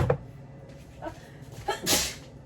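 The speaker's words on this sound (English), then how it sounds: "those seasonings got me about to sneeze" After a few soft breathy sounds, a single sharp sneeze bursts out near the end, fairly close, in a kitchen while seasoning food.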